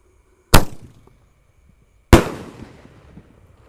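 Two sharp, loud bangs about a second and a half apart come from jumbo firework shells launched and bursting on Lebaran night, each followed by a short fading crackle and rumble.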